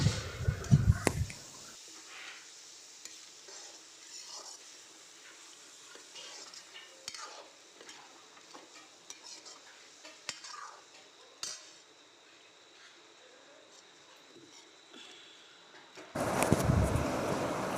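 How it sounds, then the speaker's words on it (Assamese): Duck meat fries quietly in a pan with a soft sizzle while a spoon scrapes and taps as it is stirred, with sporadic clatters and a louder burst of frying noise near the end. "দিয়াৰ পিছত এতিয়া আমি ভালকৈ ভাজি ল'ম।"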